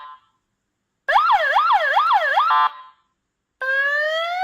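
A GENSSI 5-sound wired police siren cycles through its tone options, a fast repeating whooping wail followed after a brief gap by a rising sweep, loud and alone.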